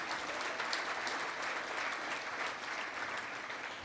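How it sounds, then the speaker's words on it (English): An audience at a legislative day gathering claps in a sustained, even round of applause, a dense wash of many hands with no talking over it. "you can clap on that."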